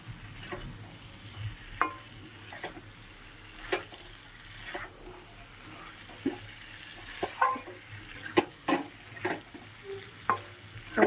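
Potato and cauliflower sizzling in a pan while being stirred, soft frying hiss under intermittent scraping and clinking of a spatula against the pan, with no talking.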